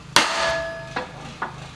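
Hammer striking a steel transfer punch to mark a steel workpiece, three sharp metallic blows with a ringing tone after the first, close and loud.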